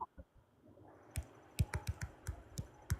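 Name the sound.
typing on a computer keyboard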